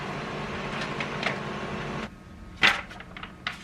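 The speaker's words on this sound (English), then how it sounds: "I'm just gonna print something on there" An inkjet printer prints on transfer paper, giving two seconds of close, steady mechanical whirring followed by a sharp clack and several lighter clicks as the carriage moves.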